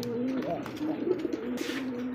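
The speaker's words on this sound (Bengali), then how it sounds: "সুপ্রিয় দর্শক দেখতে পাচ্ছেন চমৎকার একজোড়া কিন্তু 8 ইঞ্চের কবুতর" A pair of large eight-inch pigeons coo in low, soft rolling tones nearby, with other birds' faint calls and background noise around them.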